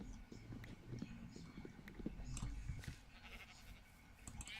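Sheep bleat in the video game Minecraft, a few faint, short bleats scattered among soft game sounds and footsteps.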